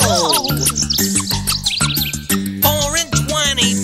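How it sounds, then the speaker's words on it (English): Specially trained blackbirds singing from inside a big baked pie with a flaky crust, part of an animatronic pizza-restaurant stage show: bright overlapping chirps and warbles over a steady musical backing, loud and continuous throughout. "specially trained singing blackbirds in a pie"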